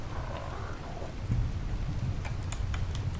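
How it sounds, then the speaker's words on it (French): Rain and thunder in the survival video game ARK: dense steady rainfall with low rumbling thunder rolling underneath, plus scattered sharp drips or ticks toward the end. "Oh, ça va, il pleut."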